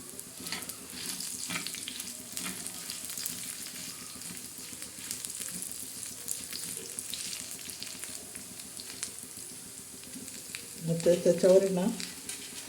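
Coriander seeds frying in a pan while a spice masala is being roasted, giving a steady, soft sizzle throughout with a louder stirring scrape near the end; no one speaks.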